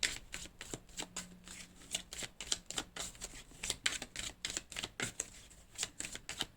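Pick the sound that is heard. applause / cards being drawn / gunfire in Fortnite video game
cards being drawn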